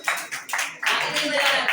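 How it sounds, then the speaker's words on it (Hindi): Audience applause for a student at a school result and scholarship ceremony, several short bursts of clapping from a crowd that swell into steady, fairly close applause. "प्रिया कुमारी के लिए जोरदार तालियां"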